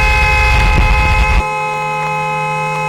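A car horn honks in the Dream Road driving game, a loud sustained blare over engine rumble that cuts off partway, then steady tonal game sounds carry on alone.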